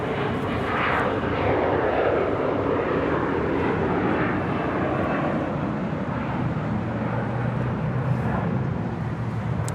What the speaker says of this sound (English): It's an A350-900 now pushing back from the gates on the north side of Tom Bradley